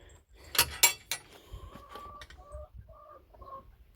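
Hens in a backyard poultry enclosure give several close, soft clucks and short calls, with a few sharp clattering knocks early on and no talking.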